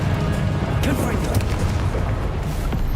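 A Confringo blasting spell explodes in Hogwarts Legacy, a loud deep boom with rumbling bursts that fills the clip, with a voice talking over the blasts.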